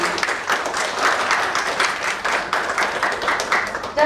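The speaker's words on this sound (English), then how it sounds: "Can I have a big round of applause for him?" Audience clapping to welcome a speaker at an income tax educational session, a smaller group applauding with uneven, pulsing bursts that rise and dip for about four seconds.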